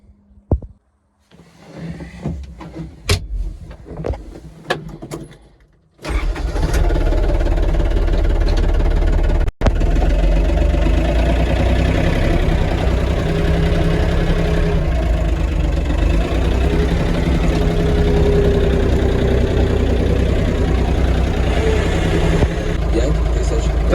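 A tractor engine starts and drives off after ploughing a small rural plot, settling into a loud, steady low rumble that runs nearly to the end, with a voice talking briefly over it at the start.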